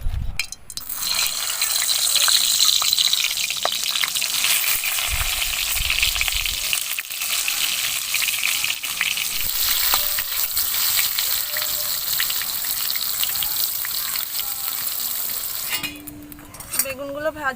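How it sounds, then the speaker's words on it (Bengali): Eggplant slices fry in mustard oil in a wok with a loud, continuous sizzle and crackle, punctuated by occasional clinks of a utensil stirring, close up, ending with a brief quieter moment. "এবার বেগুনগুলো সব ভেজে নেব"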